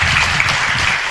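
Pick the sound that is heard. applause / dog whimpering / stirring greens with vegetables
applause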